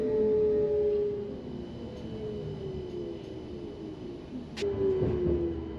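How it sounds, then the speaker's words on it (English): A Belgian coastal tram, the Kusttram, rumbles over a dockside swing bridge. Its wheels screech with a steady tone, then a sharp clunk sounds and the rolling rumble goes on. "we clunk our way over the swing bridge to complete our tour around the docks"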